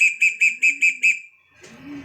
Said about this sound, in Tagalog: pagka may dumadaan, syempre napapapito tayo mga kalapatids